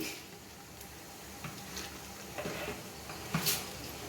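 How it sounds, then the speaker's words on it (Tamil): Water boiling vigorously in a pot while cooking a sorrel-leaf dish, a low bubbling hiss with occasional pops and clinks, quiet and close, no talking. "தண்ணி பாருங்கள் நல்லா சல்ல சல்லன்னு கொதிக்குது பாருங்கள்"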